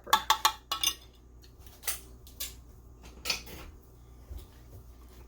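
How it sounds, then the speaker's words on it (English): Clinks and taps of a utensil against a bowl while mixing a marinade, several quick sharp clinks at first then sparser scraping knocks, close and fairly loud with no talking. "After that, just going to kind of mix all this together."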